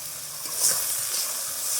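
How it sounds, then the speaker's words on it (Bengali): Spices with a splash of water, salt and whole white cumin sizzle and hiss steadily in a hot pan while being stirred, a constant close frying noise with no pauses. "সব মশলা খুব ভালোভাবে কষিয়ে নেব"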